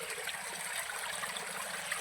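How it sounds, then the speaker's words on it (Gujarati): Water pours down in a continuous hissing rush, even and unbroken, close and moderately loud with no voices. "પાણી હોય ઓછું થાય છે તો આમ રેડું પડી રહ્યું છે"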